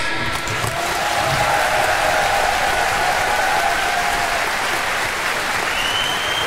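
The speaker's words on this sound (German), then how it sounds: "So, jetzt nochmal einen ganz großen Applaus alle zusammen." A live concert crowd gives a big round of applause for a performer, loud, dense and unbroken throughout, with faint cheering and voices mixed in.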